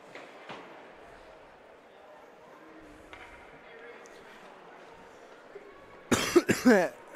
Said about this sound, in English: I currently have a little bit of a cough